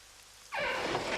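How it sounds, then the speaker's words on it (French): A soft hiss of steady rain suddenly swells halfway through into a fuller, louder downpour pattering on a surface. "Et cette pluie qui ne s'arrête pas."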